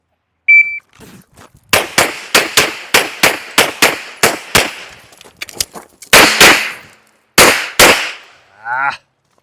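Handgun shots on a timed shooting course: a brief electronic beep, then a fast string of about ten loud, sharp cracks, a short pause, and a few more shots close by.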